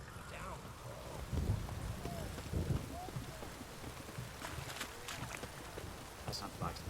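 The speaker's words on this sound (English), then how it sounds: "It's raining, of course it's going to be damp." Rain in The Witcher 3 pattering steadily, a soft, constant hiss of falling drops with occasional faint low rumbles beneath.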